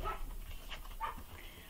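Dogs bark and whimper faintly in the background, a few short yips scattered over steady room noise.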